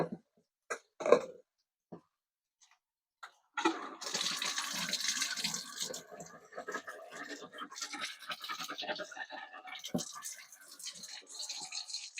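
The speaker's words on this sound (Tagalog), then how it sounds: "Tatanggalin natin kagad ang tubig at papalitan natin ng panibago." Boiling water splashes and gushes out of a cooking pot in a steady pour for several seconds, after a few scattered knocks and clanks, with a voice speaking briefly.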